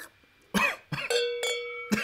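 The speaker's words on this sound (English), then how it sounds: "You get through that cough." A series of sharp, close coughs, about five bursts in quick succession, with a short gap before the last one.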